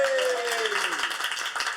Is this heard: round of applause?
yes